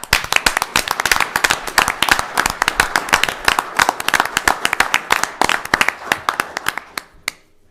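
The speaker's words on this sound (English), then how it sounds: "So I want to give each of y'all a round of applause." A crowd at a county board of commissioners meeting applauds engineers with sustained, dense clapping that runs steadily before stopping abruptly.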